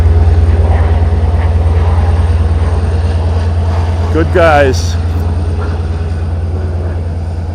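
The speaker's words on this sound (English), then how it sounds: "Airplane flying in over the train." Long Island Rail Road train 16 at Westhampton, a steady loud engine drone and rumble, with a jet flying overhead toward Gabreski adding a brief rising whine; a person speaks briefly over it.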